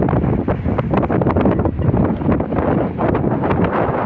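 Strong wind gusts buffet a boat at sea in about 35 knots with gusts to 40, a loud, continuous roar battering the microphone with surging pulses and no talking.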